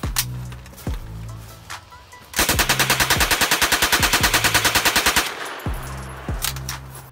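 Blue and red toy gun firing electronic machine-gun sound effects: single loud bursts, then a long rapid rattling stream of shots, then more single bursts, close and with no talking.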